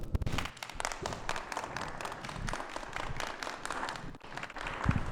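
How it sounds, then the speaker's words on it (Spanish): Small audience applauding at the close of a Colombian cinema interview, with uneven, sparse hand claps and a few sharper slaps rising and falling at moderate level. "ojalá con un aplauso"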